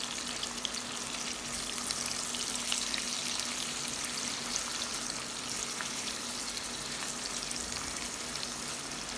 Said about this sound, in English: Continue frying until all sides are evenly golden, fragrant, and lightly crisp.